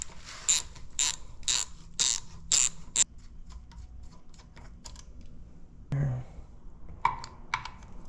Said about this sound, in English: we're going to take 2 13mm bolts out right here